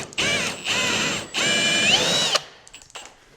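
A power drill whines at high speed in two long bursts with a brief dip between, then spins down to quiet, while drilling a pocket hole in wood with a pocket hole jig.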